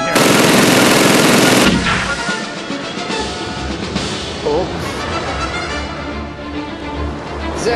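Loud, dense gunfire from a video game shootout opens the scene, then gives way to a noisy, rumbling battle ambience with more distant shots and game voices.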